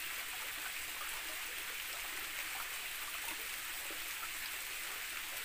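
Water from Kumba Falls in Mabini, Batangas rushes and splashes steadily in a continuous, faint hiss of falling water and stream flow, with no other sounds over it.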